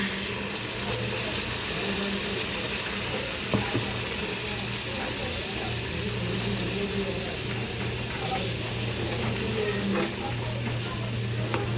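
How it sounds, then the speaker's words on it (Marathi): Steady loud sizzling as water is poured into brinjal frying in a pan, a continuous hiss of water hitting hot oil with occasional clinks. "तर आपण याच्यात पाणी घालूया."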